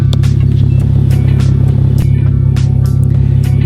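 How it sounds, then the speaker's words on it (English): A Nissan 370Z with a Tomei exhaust rumbles loud and close, a deep pulsing exhaust drone that holds steady, with a few sharp pops or blips on top. "The exhaust is freaking beastly."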